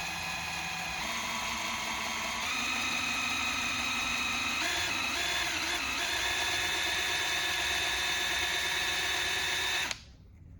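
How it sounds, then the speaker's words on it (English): Power drill spinning a valve to lap it into a Chevrolet 283 cylinder head, a steady close whine that shifts pitch slightly a few times before cutting off abruptly. "I'm going to give it a little backward pressure and just spin it for a bit"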